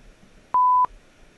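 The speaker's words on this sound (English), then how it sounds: "It's like a 1000 hertz. It's like a kind of a flat high C." A steady pure 1000 Hz sine-wave test tone sounds for about a third of a second, clean and mid-high pitched, over faint background hiss.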